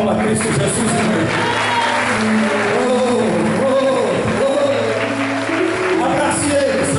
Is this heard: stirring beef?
no